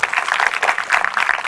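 Audience applause at a felicitation ceremony honouring a lifetime achiever, a steady dense patter of many hands clapping together, moderately loud and continuous without pause.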